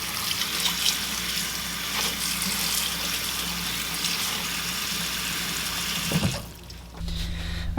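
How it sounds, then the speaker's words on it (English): A cold tap runs steadily over snow fungus mushrooms being rinsed in a kitchen sink, a close, continuous splashing that cuts off near the end before a brief clatter. "let's go ahead and drain this and rinse them in cold water."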